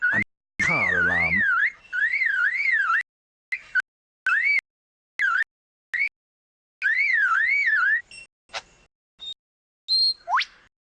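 A lyrebird imitating a car alarm repeats a loud, close, rising-and-falling electronic whoop several times, broken by short clicks and chirps, with no talk over it.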